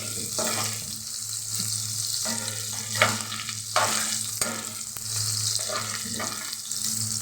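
Garlic frying gently in a pan for a home-cooked family breakfast, a steady soft sizzle with occasional clicks and stirring sounds, and a low hum throughout.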